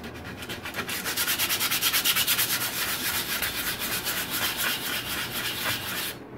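Sandpaper scrubs old paint off a wooden painting easel in quick, regular back-and-forth strokes, close and fairly loud and heard alone, before stopping abruptly at the end.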